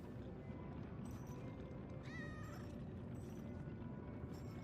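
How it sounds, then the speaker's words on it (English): A cat in the video game Lies of P gives a single clear, wavering meow over steady low game ambience. "First things first, we say hello to the cat."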